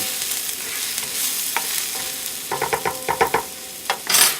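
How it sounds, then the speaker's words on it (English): Mushrooms sizzle in a hot pan, a steady frying hiss broken by a run of clinking and scraping stirs. "we're just going to let these sizzle up here, let those mushrooms go"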